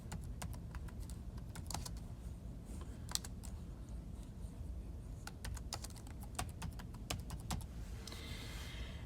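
Keys on a computer keyboard clack in an irregular, steady run of taps, close and fairly quiet, with a brief backspace-like burst near the end and no talking.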